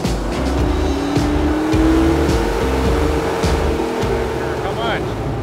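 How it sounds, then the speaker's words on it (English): An off-road trail tractor runs hard on a dyno at King of the Hammers, its engine roaring loudly and rising in pitch as it pulls up through the revs, with voices underneath. "We're gonna throw the old trail tractor on the dyno"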